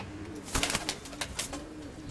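A male white-tailed pigeon coos softly nearby, a few short rolling calls in a quiet setting.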